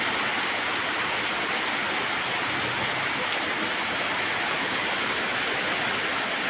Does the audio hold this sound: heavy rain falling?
yes